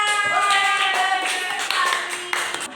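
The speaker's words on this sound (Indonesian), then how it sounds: "Tepuk tangan untuk Nak Farah." A classroom of children applauds together, a dense burst of steady clapping lasting a few seconds with a faint tonal ring underneath, close and fairly loud.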